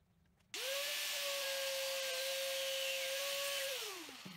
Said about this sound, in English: I tried a different grinder which had a short wheel as well